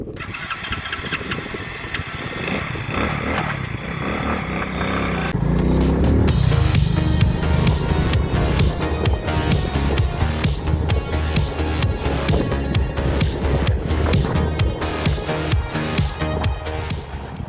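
A farm vehicle travels along fields of soybean sown in mid-May. Its engine starts with a rising roar, then settles into a loud, steady, rumbling drive close by, with no voices heard.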